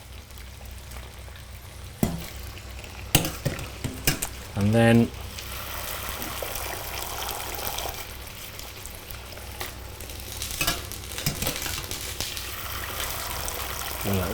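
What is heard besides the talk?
wet courgette cooking in boiling water with olive oil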